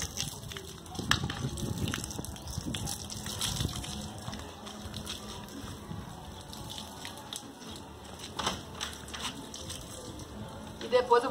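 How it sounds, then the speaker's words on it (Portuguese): A garden hose sprays water onto a dusty motorcycle outdoors on a street, a faint, uneven hiss and splatter under occasional voices. "Eu vou jogar uma água na moto que tá empoeirada"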